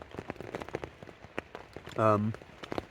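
Pouring rain patters steadily outdoors in a wild camping spot, with dense irregular drops striking close by and a brief tonal voice-like sound rising over the downpour midway.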